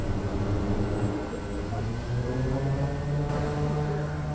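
Kodiak 100 turboprop engine in Microsoft Flight Simulator 2020 drones steadily at a moderate level, a continuous propeller hum with a faint high whine, during a troubled flight in Papua New Guinea stuck in reverse thrust or half revs.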